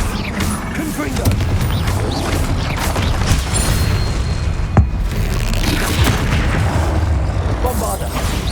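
Repeated Confringo fire-spell blasts in the Hogwarts Legacy video game, dense and loud booming bursts amid ongoing battle noise and clattering, with one sharp crack standing out near the middle and spoken voices mixed in.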